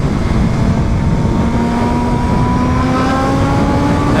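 A BMW M1000RR superbike screams up through its revs in fifth gear, a loud, dense, steadily rising engine whine that sounds close and continuous for several seconds, with no voices.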